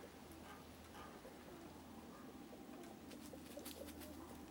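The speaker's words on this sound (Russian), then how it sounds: "Вроде бы как голуби спускаются вниз." Pigeons heard outdoors as a faint, continuous low cooing under soft pattering ambience, distant and quiet, with a few brief light taps near the end and no speech.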